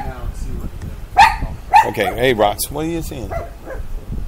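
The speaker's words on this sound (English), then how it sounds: "Do you see a dog or something?" A dog barks and yips in short bursts at close range, mixed in with a person talking over it.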